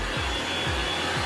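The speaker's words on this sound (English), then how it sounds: "we have a hair dryer" Steady broadband hair dryer blowing inside a cruise ship cabin aboard the Disney Wonder, a continuous close airy roar with a low rumble, running alone without talk.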